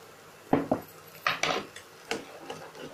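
A spoon stirs roasted garam masala in a pan for a green peas kachuri filling, making a handful of sparse, close metallic clinks and scrapes.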